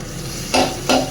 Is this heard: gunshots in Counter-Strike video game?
no